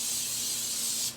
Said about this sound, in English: I'm going to spray my pan over here